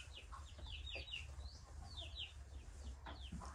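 A flock of around a hundred mixed young and grown chickens, including fighting cocks, on a rural farm plot, giving repeated high chirping clucks and calls over a steady low background hum, with no talking.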